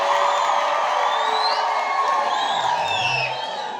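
A church congregation at a thanksgiving mass bursts into loud ululation and cheering, with high trilling cries weaving over a dense crowd roar that holds steady, then eases slightly near the end.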